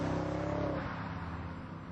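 BMW 645Ci engine running through its production exhaust system during development testing, a dense, steady drone that is loud at first and eases slightly, heard alone.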